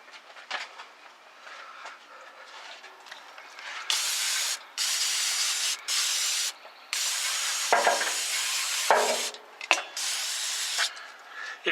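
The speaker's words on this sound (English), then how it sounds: "So I'm going to go get some brake cleaner and spray this right away." Aerosol brake cleaner hisses in several loud, sustained bursts of about a second each, sprayed close up onto a 1964 Ford F100 during a carburetor rebuild, with short pauses and faint handling noises between.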